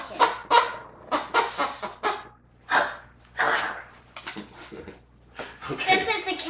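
Squeaky dog toy from a BarkBox, shaped like a cat, gives repeated close, loud clucking squeaks that sound like a chicken, in rapid irregular bursts of several squeezes.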